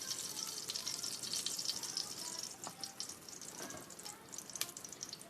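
Ghee and oil sizzle faintly in a kadai on the stove, a soft, continuous crackle with a few small pops.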